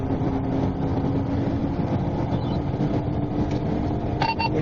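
Car engine droning steadily at speed during a police chase, a continuous road and engine rumble with no clear pauses, heard from inside a following vehicle, with a faint radio blip near the end.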